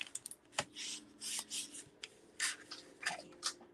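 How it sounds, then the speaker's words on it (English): Paper card panels for a double gate fold card being folded by hand, with quiet close-up rustles, soft creasing swipes and brief crinkling bursts in an irregular rhythm, with no talking. "Here's the center panel, fold it in, and then fold it back."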